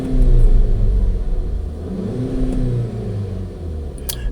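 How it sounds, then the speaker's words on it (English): A 2013 VW Tiguan with low power and a parking brake fault accelerates, its engine rumbling and rising in a steady revving drone heard from inside the car. "let me just accelerate real quick"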